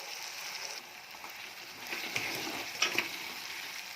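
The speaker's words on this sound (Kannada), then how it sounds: "ಟೊಮೊಟೊ ಕೂಡ ಎಣ್ಣೆಯಲ್ಲಿ ಚೆನ್ನಾಗಿ ಫ್ರೈ ಆಗಬೇಕು." Chopped tomatoes fry in oil with a soft, steady sizzle for an egg curry, staying faint and even throughout with a few slightly brighter crackles near the end and no voices.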